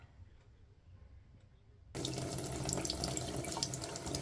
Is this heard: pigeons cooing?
no